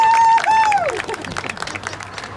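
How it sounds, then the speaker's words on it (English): A crowd applauds at a commemoration of the Gull Force and Lark Force veterans. Full, steady clapping spreads through the audience after a brief whistling tone at the start and fades slightly toward the end. "We've got to have a round of applause for them too."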